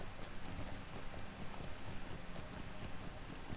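Horse hooves clip-clopping at a steady walking rhythm in Lord of the Rings Online, a continuous moderate patter with a light wind-like wash behind it and no talk.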